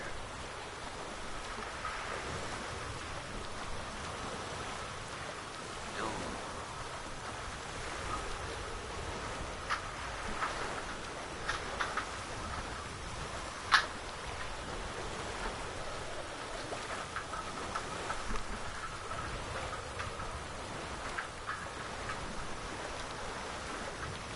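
Rain falls steadily in Witcher 3: Wild Hunt, a soft continuous hiss with scattered faint drops and a brief sharp tick midway, quiet and unbroken throughout.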